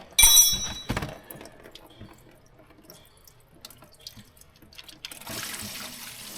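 Water gushing and splashing out of an old abandoned homemade tree-farm skidder as it is drained, a loud burst at first that settles into a lighter, steady trickle with knocks and thunks.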